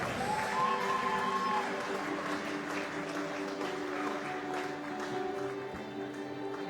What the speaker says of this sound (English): Ladies and gentlemen, a round of applause for your medal winner.